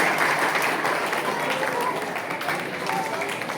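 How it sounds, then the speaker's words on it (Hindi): An audience claps warmly to welcome the chief guest at a community felicitation ceremony, a steady, moderately loud patter of many hands that continues for a few seconds. "सबसे निवेदन है जोरदार ताली से अपन स्वागत करेंगे अतिथि महोदय का।"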